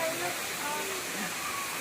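A small but tall waterfall on a family outing gives off a steady broadband rush of falling water, moderately faint and unbroken, with voices murmuring faintly beneath it.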